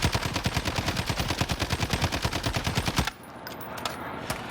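SCAR assault rifle fired in Warzone, a rapid automatic burst of evenly spaced loud shots lasting about three seconds, then stopping abruptly into quieter game ambience.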